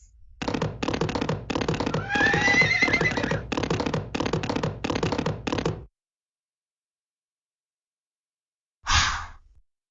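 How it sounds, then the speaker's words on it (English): A horse gives a long, pulsing whinny made of rapid fluttering bursts lasting several seconds. After a pause, one short, breathy snort follows. "Horses."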